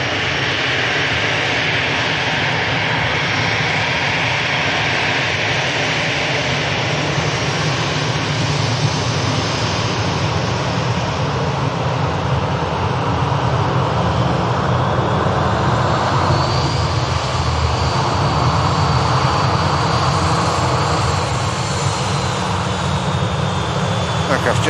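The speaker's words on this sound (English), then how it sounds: "Aircraft just initiating a spool up now" An Aer Lingus A321neo XLR spools its jet engines up for takeoff at Manchester Airport, a loud, steady roar with a rising whine that fills the whole stretch, while someone talks over it.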